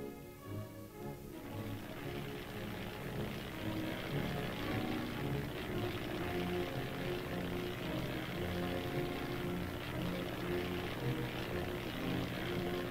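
A reconnaissance aircraft flies during a tank mobile defense exercise, its steady propeller drone holding for the whole stretch at moderate distance without any voices.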